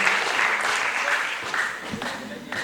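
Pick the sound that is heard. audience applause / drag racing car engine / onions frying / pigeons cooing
audience applause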